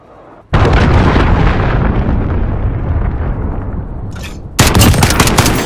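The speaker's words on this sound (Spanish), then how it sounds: "Misil de crucero aliado lanzado." An allied cruise missile strike in Call of Duty Modern Warfare erupts into a loud, sustained roaring explosion that rumbles on for several seconds, then a second sharp blast crashes in near the end.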